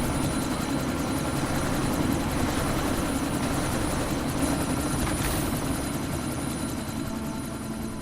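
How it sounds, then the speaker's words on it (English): A helicopter in the video game Deus Ex spinning up to take off, a dense steady rotor and turbine roar that stays loud and continuous throughout, with no voices. "That chopper's about to take off."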